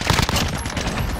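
Enemy gunfire in Call of Duty: Modern Warfare, a loud, dense volley of rapid shots crackling without pause through the brief moment.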